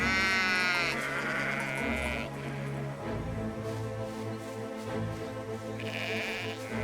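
Sheep bleat repeatedly over a continuous musical backdrop in the video game Valiant Hearts: The Great War, the wavering calls rising and falling close by.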